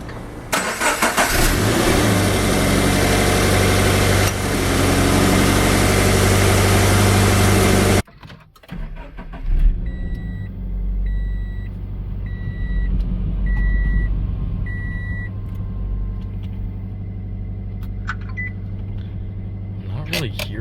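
A Subaru BRZ fitted with a GrimmSpeed intake cold-starts: a loud steady whir and hum runs for about eight seconds, cuts off, then the engine catches and settles into a fast, high idle with a faint repeating beep and brief voices.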